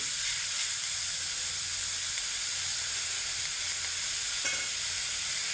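Onion fries in a pan with a constant, loud, even sizzling hiss and a single faint scrape partway through.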